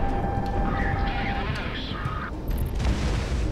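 Aircraft cannon fire in the Project Wingman flight combat game, a dense, loud rumbling burst over a continuous roar of engine and wind, with a voice talking over the noise.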